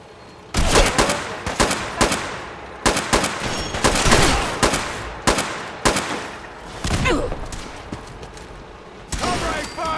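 Heavy gunfire from the video game Fallout 4: repeated bursts of rapid automatic shots with loud single blasts, crackling in clusters across the whole stretch, with a voice briefly heard amid the shooting.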